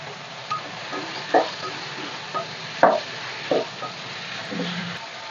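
Brinjal mixture with turmeric fries in a pan for a vangi bath gravy, sizzling steadily while a spatula stirs it in several short scraping strokes spaced about a second apart.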